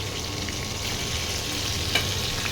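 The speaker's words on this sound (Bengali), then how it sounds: "মাছগুলোকে দেখো এইভাবে ভাজতে হবে, বেশি লাল লাল করে নয়, মিডিয়ামভাবে মাছগুলো ভাজতে হবে।" Fish pieces fry in oil in a pan with a steady, moderate sizzle and one small sharp spatter near the end, no voices.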